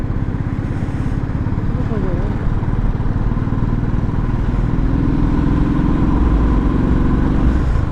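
Motorcycles riding in a bike lane near a roundabout in Himachal Pradesh: a loud, continuous engine drone with revving swells at close range, over heavy road noise.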